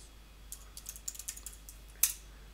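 Someone types a short command on a computer keyboard: a quick, close run of about a dozen light key clicks, ending in one sharper, louder keystroke like the Enter key.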